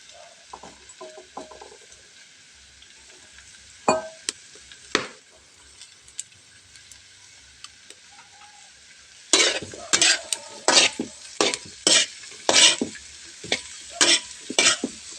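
Pinakbet vegetables fry in a pan, a soft sizzle under repeated scraping strokes of a utensil, the stirring growing louder and quicker in the second half with rhythmic metallic scrapes and clacks, no voices present.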